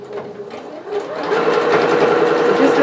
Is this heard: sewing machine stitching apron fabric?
yes